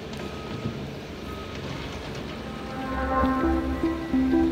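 Trucks move around the old Pullman rail yard in Atlanta, with steady rain-like background noise and a reversing alarm beeping in a regular rhythm during the last second or so, moderately distant.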